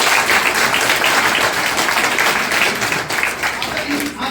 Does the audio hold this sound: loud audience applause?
yes